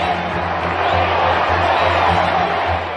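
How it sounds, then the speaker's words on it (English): A large crowd roars and cheers outdoors at a royal wedding, a dense, steady wash of massed voices close and loud throughout. "By the time Fergie and Andrew got married, of course, the crowd were waiting for the kiss."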